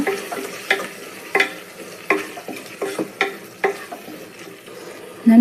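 Ground coriander, mint and green chili masala frying in a pan for a mushroom pulao, with a spoon stirring it in a string of sharp clinks and scrapes over a soft, steady sizzle.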